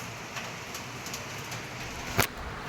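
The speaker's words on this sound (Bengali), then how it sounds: "এই যে এদিক দিয়েও বোঝা যাচ্ছে বৃষ্টি হচ্ছে।" Rain falls steadily outside a dark house, a soft, even wash of noise with one brief sharper patter near the end.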